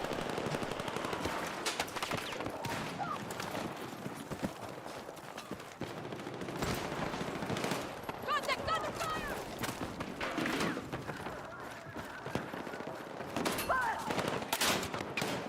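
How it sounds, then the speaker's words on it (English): Dense automatic gunfire and scattered shots rattle almost continuously through a Battlefield 6 firefight, loud and close, with bursts overlapping and voices talking over the battle. "Lots of bullets coming in."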